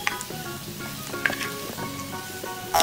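An egg fries in a pan with a soft, continuous sizzle and light crackles throughout, fairly quiet and heard alone.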